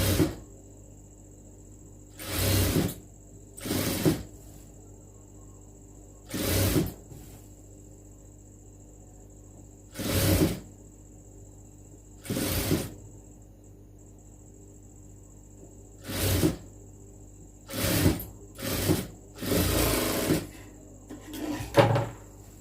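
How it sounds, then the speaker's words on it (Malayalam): A sewing machine stitches a folded hem on a lined churidar in a dozen short, sharp whirring bursts separated by quiet pauses, close and alone over a faint background hum. "നമുക്കിത് വീണ്ടും മടക്കുള്ളിലോട്ട് മടക്കി സ്റ്റിച്ച് ചെയ്ത് കൊടുക്കാം."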